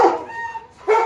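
A pet dog gives a loud close bark, then a thin whimpering whine, then another bark, each short and sharp.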